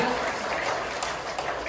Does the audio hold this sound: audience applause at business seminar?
yes